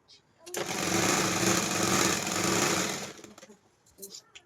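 A sewing machine runs in one steady, fairly loud burst of stitching along a pant seam, stopping before a few soft clicks and handling noises at the end.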